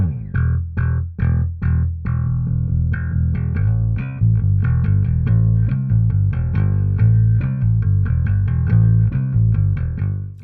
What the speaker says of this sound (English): But my favorite microphone is the Shure Beta 52.